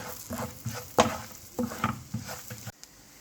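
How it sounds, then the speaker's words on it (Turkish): Walnuts being stir-fried in a pan while preparing mütebbel, an eggplant dip: irregular bursts of scraping and stirring over a light sizzle, close and fairly loud, with no talking. "ilave etmiş olduğumuz cevizlerimizi kavuruyoruz."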